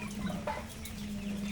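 Country chickens clucking softly on a rainy day, close by over a steady low hum, a few short calls without any talking.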